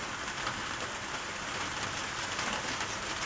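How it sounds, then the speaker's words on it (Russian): Heavy rain falling outdoors, a dense, steady hiss of drops hitting surfaces, loud and unbroken with no voices. "У меня дождь здесь сильный."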